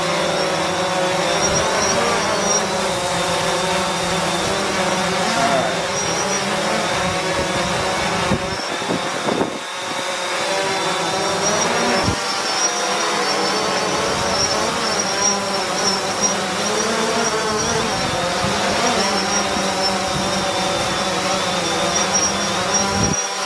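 A DJI Mavic 2 and a DJI Phantom 4 fly together outdoors, their propellers giving a loud, continuous buzzing whine with wavering pitch that carries through the whole stretch.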